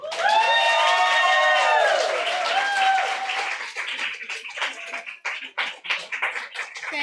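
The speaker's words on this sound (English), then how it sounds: "Please, a big round of applause for Ruxandra Guidi." An audience at a literary reading claps and cheers for a guest, starting with a burst of whoops and shouts over the applause, then thinning into scattered clapping that fades out.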